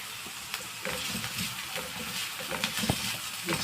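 Onions sautéing in a pan, a continuous close sizzle with small pops and occasional stirring scrapes, no talk.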